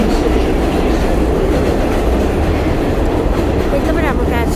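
A Manhattan-bound 7 subway train pulls into an elevated station with a loud, continuous rumbling roar and wheel noise, a faint squeal rising near the end, while a recorded announcement voice plays.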